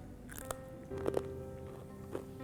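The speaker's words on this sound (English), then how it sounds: "we're just going to break into this and hear the beautiful crunch" A few crisp crunching bites close up, two sharp cracks near the middle and another softer one later, over a low steady background hum.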